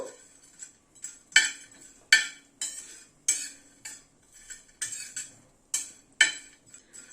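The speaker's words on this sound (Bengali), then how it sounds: "গ্যাসের ফ্লেমটাকে মিডিয়ামে রেখে মশলাটাকে আগে ড্রাই রোস্ট করে নেব" Whole spices with cardamom and black pepper dry roasting in a pan over a medium gas flame, heard as repeated metallic scrapes and clinks of a utensil stirring, in irregular bursts, close and moderately loud with no talking.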